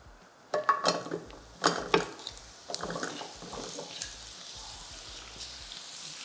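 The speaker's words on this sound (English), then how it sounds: "I'm gonna add a little oil to our pan. I'm gonna go in with the breadfruit." Breadfruit pieces dropped into oil in a pan for a vegetarian breadfruit curry, giving a few close clattering, wet sizzling bursts early on that settle into a softer steady frying crackle.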